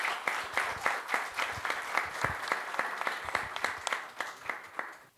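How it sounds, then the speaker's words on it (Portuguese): Applause at a Portuguese-language book talk in Paracatu, a modest crowd clapping in a rhythmic, fairly soft series of distinct claps, steady throughout and thinning at the end. "E peço uma salva de palmas por isso."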